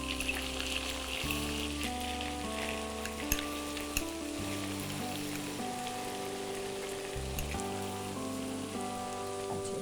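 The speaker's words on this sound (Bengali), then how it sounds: "এবার একটু ভালো করে কষিয়ে নিই" Minced garlic sautés in hot oil in a pan for a mutton leg rezala curry, giving a steady, close sizzle and crackle throughout with faint stirring, set against sustained background music.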